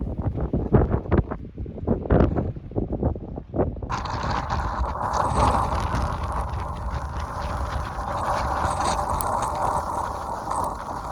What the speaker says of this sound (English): we've got some big gusts coming in